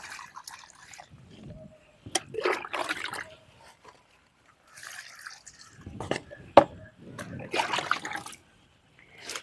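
Liquid fertilizer slurry poured onto a plant, giving soft trickling and dribbling splashes in several bursts with quiet gaps between them, close by and moderately loud.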